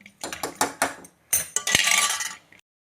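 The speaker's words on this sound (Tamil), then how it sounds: "அரிசி போடுறோம்." Rice tipped into a pot of boiling tomato rice, with bursts of clinking and scraping against the pot, a short pouring rush and a few metallic taps close by.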